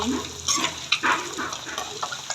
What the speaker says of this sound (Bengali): এরপর আলুগুলো ভেজে নিই ভালো করে ভেজে নিচ্ছি